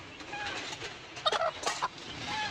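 Free-range village hens clucking nearby, a few short bursts of clucks and calls over a steady rustling background, no talk.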